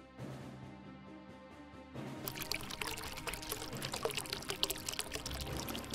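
Seawater poured into a glass for an electric current experiment with a multimeter, a steady liquid pour that grows fuller and louder partway through, heard up close with no talking.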